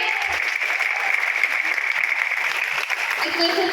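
Audience clapping at a Telugu speech event, a steady dense wash of applause filling the whole stretch at fairly even loudness, with no break or fade.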